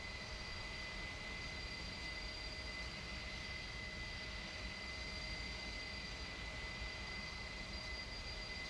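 An Airbus Beluga A300-600ST on final approach in the X-Plane flight simulator gives a steady, even drone of engine and cabin noise with thin constant whining tones, unbroken and without voices.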